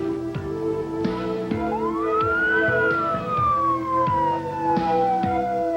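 A highway patrol car siren wails in a long rising and falling sweep, loud and close, over a steady engine rumble with sharp intermittent clicks, during a 1993 highway pursuit.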